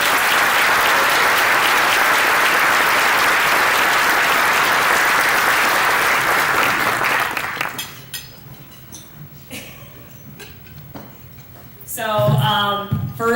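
A luncheon audience applauds loudly and steadily for about seven seconds before the clapping fades out, followed by quiet room noise with a few clinks and a voice beginning to speak near the end.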